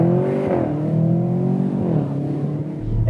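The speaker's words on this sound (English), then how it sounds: "When you hit the gas, it takes a minute for the car to build boost and pick up" An Audi RS6 Avant wagon's twin-turbo engine pulls hard under acceleration, a loud, steady, close growl whose pitch climbs, drops briefly at a shift, then climbs again, with no voices.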